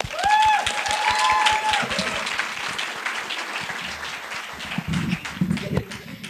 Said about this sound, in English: Let's start them off with a round of applause.